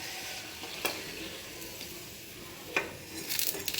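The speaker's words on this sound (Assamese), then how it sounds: "এয়া এটা এটাকৈ ভাজি ল'ম পুৰিটো" A puri fries in a kadai of hot oil, giving a steady, dense sizzle from up close, with a few sharp clicks of a utensil against the pan and a brief spike of crackling near the end.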